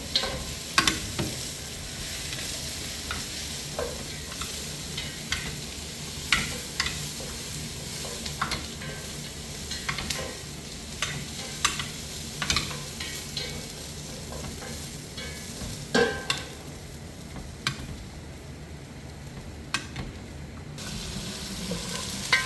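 Ingredients sauté and sizzle in a hot pan with a steady frying hiss, while a spoon repeatedly scrapes and stirs in sharp, irregular clinks close by, with no voices.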